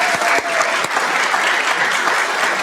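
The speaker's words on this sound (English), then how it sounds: "Let's give them a round of applause." Audience at a city council meeting applauds steadily, a dense, sustained clapping that fills the room from start to finish with no speech over it.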